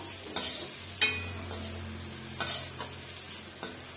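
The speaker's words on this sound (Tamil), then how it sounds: "சேர்த்துட்டு ஒரு ரெண்டு நிமிஷத்துக்கு நல்லா வந்து வதக்கி விட்டுடலாங்க" Sliced green chillies sauté in a pan for street-style chicken noodles, giving a low continuous sizzle with a handful of sharp spatula scrapes and taps at irregular intervals, close and moderate in level, with no voices.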